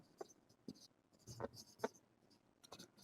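Chalk or marker writing out a matrix solution on a board in a classroom, a few separate strokes and taps with quiet gaps, close and soft.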